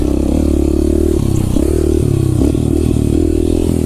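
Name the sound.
dirt bike riding on rough forest trail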